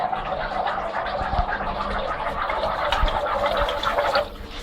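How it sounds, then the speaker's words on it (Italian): Salt is stirred into water for Sardinian bread dough, giving continuous sloshing and swirling liquid noise with light scraping, steady and close for several seconds before easing off at the end. "Incominciamo a mischiare il sale nell'acqua,"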